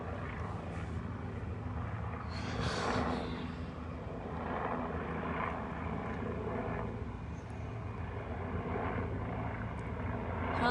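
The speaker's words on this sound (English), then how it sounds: "helicopters are flying over" Aircraft engine drone hangs over a city street during unrest in Minneapolis, where helicopters circle overhead, a continuous moderate roar that swells and eases at a distance with no voices.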